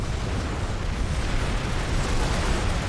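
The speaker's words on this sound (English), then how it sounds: "And here comes the explosion." Deep rumbling explosion during a Planetside 2 outfit wars playoff match, a dense sustained low boom filling the whole stretch without letup, loud and close.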